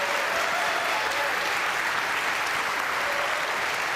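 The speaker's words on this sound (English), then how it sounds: "Can we just give a big round of applause to JT for this amazing moderation?" A big round of applause from the audience at a workers' forum for governor candidates in Wisconsin, steady, dense clapping that fills the room evenly from start to finish with no voices over it.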